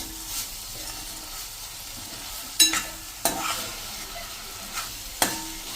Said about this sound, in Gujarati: આ રીતે 1 જ મિનિટ આપણે તેલ સાથે જ આ મસાલા કૂક કરી લેશું